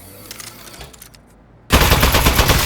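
Aperture Science turret opening fire in the game Aperture Desk Job, a sudden loud, sustained burst of rapid automatic shots that erupts after a quiet stretch of low background hum and continues to the end.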